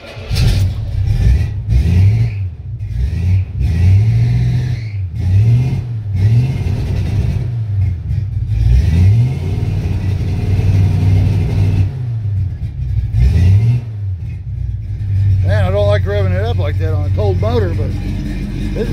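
A car left sitting for 45 days, with a tree growing through it, cranks and its engine revs in repeated swelling bursts over a steady idle rumble, close by and loud, while someone talks over it.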